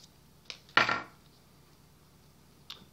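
A knife slicing open a Bhut Jolokia ghost pepper crossed with cayenne, heard as a single short crisp cut with a faint tap before and after, close and alone with no talk.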